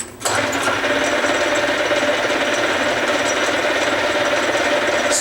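A metal lathe taking a light finish cut on a turned workpiece gives a steady, continuous mechanical whir with a faint high whine, loud and close throughout without talk.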